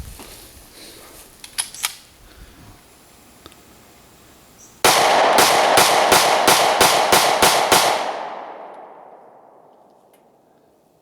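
A Taurus pistol emptying a magazine at a shooting range: a rapid string of about ten loud, close, sharp reports in quick even succession, ringing out into a fading echo after a few faint earlier clicks.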